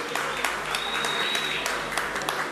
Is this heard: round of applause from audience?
yes